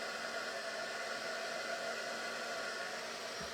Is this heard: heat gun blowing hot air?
yes